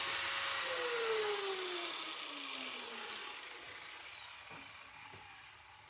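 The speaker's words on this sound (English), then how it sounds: "I just gotta grind this off a little bit" After grinding a steel bar on a bracing cage being prepared for a rotisserie, an angle grinder whines down from a high pitch, its tone falling and fading over several seconds.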